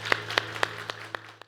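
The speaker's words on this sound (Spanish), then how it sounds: "Regálemosle un fuerte aplauso a nuestro buen Dios." A church congregation claps together, a short burst of rhythmic, fairly faint handclaps over a steady low hum, with no talking.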